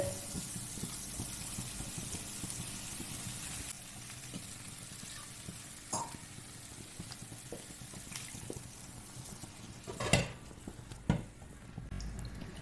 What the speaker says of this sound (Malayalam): ഇനി ഈ പരിപ്പ് വേവിച്ചത് ഇതിലേക്ക് ഇടുന്നുണ്ട്